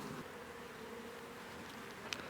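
Honeybees drone in a steady, even hum from an open hive full of young bees, with a faint tick near the end and no voices.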